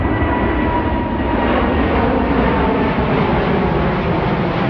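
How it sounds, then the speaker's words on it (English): A fixed-wing airplane passes close overhead near an airport in a dense residential area of Luxembourg, a loud, steady engine roar that fills the whole stretch with no talking. "the airport's right there and you heard that plane. That was loud."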